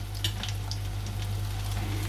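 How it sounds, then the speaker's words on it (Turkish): Food frying in hot oil until golden, a steady dense sizzle with crackling pops running through the whole stretch, close and even in level with no voices. "Kızartmaya devam ediyorum."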